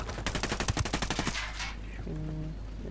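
Rapid automatic gunfire from Ghost Recon Wildlands rattles off in a fast, even burst for about a second and a half, loud and close, then trails into a fading echo and faint ringing tones.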